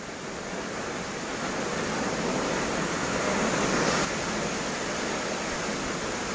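Ozarde waterfall at Koynanagar, swollen after recent flooding, roars as a dense, loud, continuous rush of falling water that fills the whole scene without pause. No voices can be heard.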